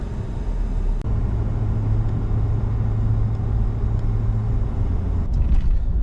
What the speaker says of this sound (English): Even in the mountains, there's traffic and stopped vehicles.